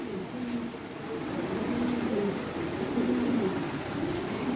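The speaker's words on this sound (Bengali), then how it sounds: "এই যে দেখেন কবুতর।" Lahori pigeons coo steadily in a loft, low soft repeated calls from several birds close by, with faint background noise.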